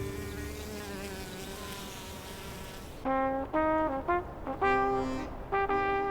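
Bees buzz steadily around flowers as they gather pollen by Lake Maggiore in Switzerland, a close, wavering drone lasting about three seconds before clear, stepped tonal notes take over.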